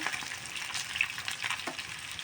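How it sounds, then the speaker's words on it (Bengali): Food frying in hot oil until reddish-brown, a dense, steady crackling sizzle close by with no voices. "দেখুন আমি এভাবে লাল লাল করে ভেজে নিচ্ছি।"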